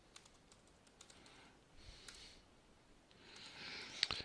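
Keystrokes on a computer keyboard as a short terminal command is entered, scattered faint clicks at a quiet level, ending in a slightly louder burst of key taps.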